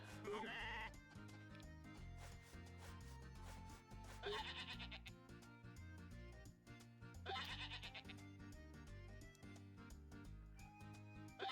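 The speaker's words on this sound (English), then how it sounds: "I have a narcoleptic sheep." Sheep bleat repeatedly on a farm in the video game Story of Seasons: A Wonderful Life, several loud calls sounding over a busy, constant game music track.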